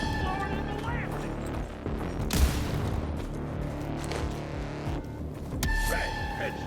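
Gunfire in the video game Evil West, a few sharp bursts and booms under music and a voice talking over the action.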